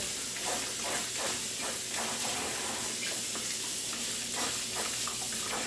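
Water running over a Super Angel juicer part as it is rinsed, a steady broad hiss and splash with soft irregular scrubbing textures, fairly quiet and continuous.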